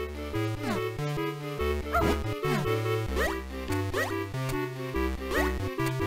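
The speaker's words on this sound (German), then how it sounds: "Da ist ein Hund" A dog in the Zelda Minish Cap video game barks in a run of short, bright synthetic yips repeated at a steady, lively pace over looping game music.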